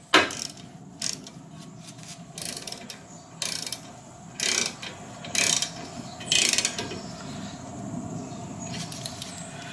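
A ratchet clicks in short bursts while tightening the brake pad pin bolts on a fourth-generation Nissan Maxima, close and crisp, with pauses between strokes.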